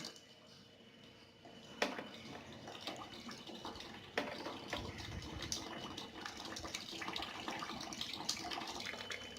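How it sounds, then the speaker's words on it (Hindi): Water runs steadily from the outlets of a home RO water purifier, both the clean-water and waste-water streams, as a continuous close hiss with a couple of sharp clicks partway through. "देखिए दोनों का फ्लो, बल्कि ये मीठा पानी का फ्लो ज़्यादा है"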